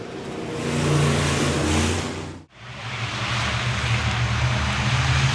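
B-Modified race cars roar down the straight at Park Jefferson Speedway on a restart to green, a loud sustained engine blast that dips sharply for an instant and then surges back as the next car passes close by.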